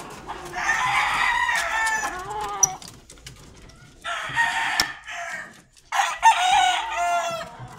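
Chickens and a rooster in a backyard coop, with several loud nearby crows and clucking in three separate bursts separated by brief quieter gaps.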